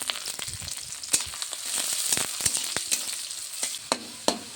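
Chopped green chillies and onion frying in hot oil in a pan for Maggi noodles, a steady crackling sizzle with sharp spattering pops and occasional stirring scrapes, close and moderately loud with no talking.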